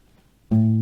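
Near-silence, then a single plucked guitar note rings out loudly and sustains to the end.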